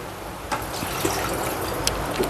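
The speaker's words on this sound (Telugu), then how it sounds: "కలిపేసాం కదా, వాటర్ వేసేసుకుందాం." Water is poured into a pan of chicken curry mixed with garam masala, a steady close splashing stream with a few small clinks, no talking.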